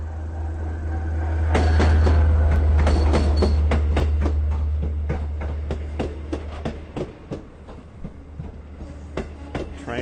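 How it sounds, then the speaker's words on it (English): Long Island Rail Road train 2704, hauled by engine 406, passes at Speonk station on special service, with a heavy rumble swelling then easing and rhythmic clickety-clack wheel beats continuing as it rolls by. "So this is train 2704, going to take people to Shinnecock."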